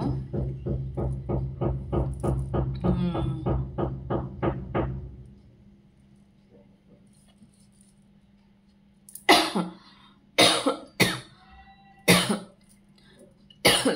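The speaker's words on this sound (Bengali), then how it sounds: "ঘুম থেকে উঠেই দেখছি কাশিটা আবার আরম্ভ হলো।" A run of harsh, rhythmic coughs fills the first few seconds, followed by a quiet stretch and then several separate, sharper coughs close to the listener.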